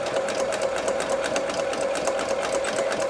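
A sewing machine runs steadily while stitching fabric, its fast, even motor hum and rapid needle clatter continuous and close throughout.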